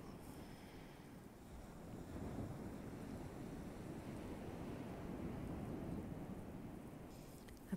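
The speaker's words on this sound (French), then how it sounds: "À présent, tu entends le son des vagues." Ocean waves behind a guided meditation make a continuous rushing wash of surf with gentle swells and wind-like hiss. The sound is soft and steady, with no voice over it.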